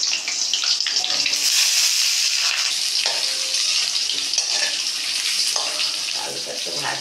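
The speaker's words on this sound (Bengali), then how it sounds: "এবার আমি আলুটা দিয়ে দিলাম। দেখো আলুটা দিয়ে এবার আমি ভাজতে" Potato pieces fry in hot oil tempered with cumin seeds, dried red chilli and bay leaf for a vegetarian curry, giving a loud, steady hiss and crackle that runs unbroken throughout with no voices.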